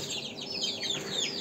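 Chicks and chickens, including brown and white birds, chirping and clucking nearby in a steady stream of high, overlapping peeps.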